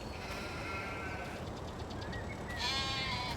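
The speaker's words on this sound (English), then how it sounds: "So these people are keeping their sheep in our field down there." Sheep in the video game Farming Simulator 22 bleat repeatedly in a field, several overlapping calls at moderate distance over a steady outdoor ambience.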